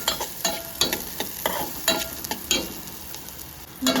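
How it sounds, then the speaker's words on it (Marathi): Carrot and tomato pieces frying in ghee, stirred with a spoon in a pan, giving repeated scraping stir strokes over a steady close sizzle, with no talking. "गाजर टॅमॅटो आणि छान भाजून घेत आहे तुपामध्ये"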